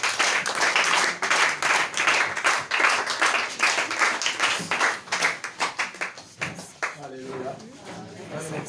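A church congregation applauds the Lord with dense, steady clapping close by, crowd voices mixed in and cheering over it, the clapping thinning toward the end.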